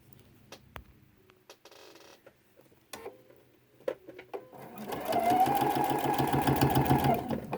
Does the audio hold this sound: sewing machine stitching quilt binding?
yes